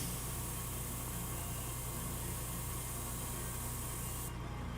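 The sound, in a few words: spray painting a miniature model on one side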